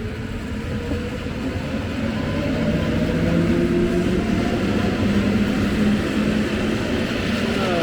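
A train pulls out of Pabianice station in Poland, giving a steady close rumble that swells slightly as it gets moving, with sustained tonal whines from wheels and traction running through it and no voices.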